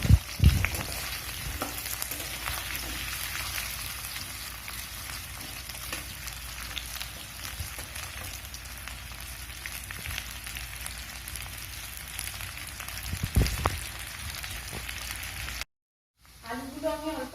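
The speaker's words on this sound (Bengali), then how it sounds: "আলুগুলোকে একটু ভেজে নেব।" Cut potatoes fry in a pan for a cucumber and prawn curry, giving a steady, moderate sizzle throughout with a couple of brief clatters, ending in a short break.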